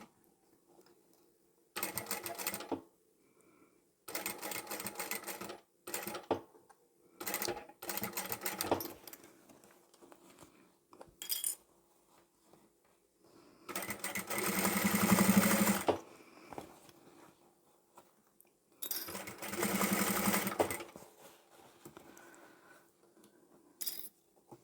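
A sewing machine runs in repeated short bursts of whirring stitching while sewing elastic onto a fabric tissue box cover, with longer runs later and quiet gaps and faint handling clinks between.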